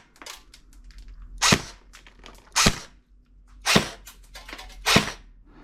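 A Kriss Vector airsoft replica fires four sharp, loud shots spaced about a second apart during a velocity test, each a crisp snap that stands alone over faint background noise.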